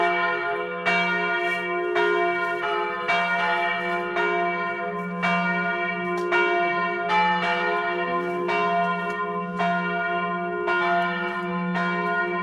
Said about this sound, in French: Ouais, celle-là, c'est une belle cloche.